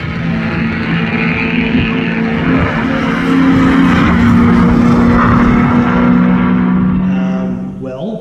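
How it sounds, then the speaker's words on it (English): A C5 Corvette race car in an SCCA T1 LP class event in Colorado roars steadily and loudly for several seconds, its engine note droning and swelling slightly as it passes close by. "You get a little shot of the Corvette here."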